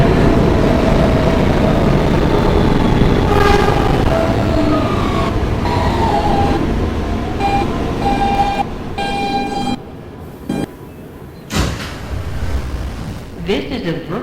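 An R160B Siemens W local subway train rides through the tunnel with a steady rumble, squealing wheel and brake tones, and brief drops as it slows, with chimes and announcements over the noise.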